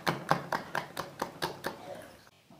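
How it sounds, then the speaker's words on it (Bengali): Cake batter being mixed with milk in a bowl, a quick run of about ten steady, rhythmic beating strokes close by, slowing and fading at the end. "এবার অল্প অল্প দুধ দিয়ে ব্যাটারটাকে আবারও খুব ভালো করে মিশিয়ে নিতে হবে।"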